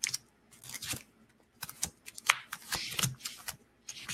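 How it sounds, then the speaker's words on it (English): Playing cards dealt and flipped out one by one onto a table during a solo tabletop board game, giving a series of close, crisp snaps and riffles in irregular bursts with short pauses between. "So I'm going to flip out 4 cards."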